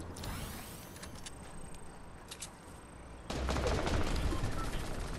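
Gunfire in the Fortnite video game, rapid clattering shots and mechanical weapon sounds that grow louder and denser halfway through, with no voices.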